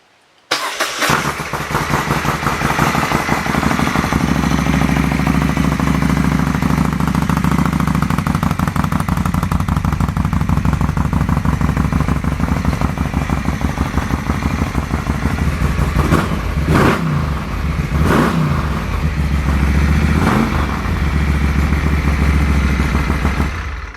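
A Moto Guzzi 1400 Eldorado motorcycle with a loud aftermarket exhaust cranks and fires, then settles into a steady, loud idle close by. Several sharp revs burst out near the end.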